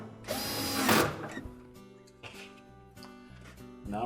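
A power driver sinks a screw into a ceiling stud, giving a close, brief whirring burst near the start, then quieter mechanical clicks and handling noises.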